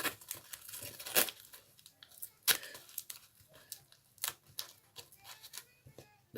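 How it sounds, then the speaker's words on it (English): Masking tape pulled and pressed onto a monster bust build, a quiet, close series of irregular tearing rips and crinkling pats spread throughout. "I'm just going to once again use the masking tape and just tape it on"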